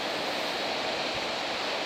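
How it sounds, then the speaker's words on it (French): Ocean surf on a cool spring morning, a steady broad wash of breaking waves heard from a distance, even and unbroken with no voices. "Mais vous allez voir que sur les séries, il y a de très belles vagues"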